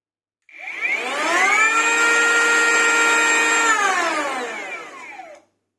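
A powered screwdriver removes the three cover screws from a Parkside Performance PPHA 20-Li B2 cordless planer. A single loud motor whine ramps up, holds steady for a few seconds and then winds down, with no speech.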